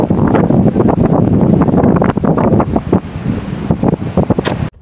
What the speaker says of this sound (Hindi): बाहर बहुत तेज हवा चल रही है